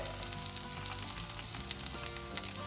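Puttu crumbs frying in hot coconut oil at a Kerala street stall, a steady dense sizzle with faint stirring underneath and no voices.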